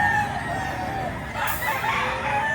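Rooster crowing up close, one loud drawn-out crow rising mid-clip over steady background hum and a few softer clucks, with no talking.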